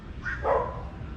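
A dog gives a brief bark outdoors on a dark night in Davao City, Philippines, heard from a balcony as a single short, moderately distant yap.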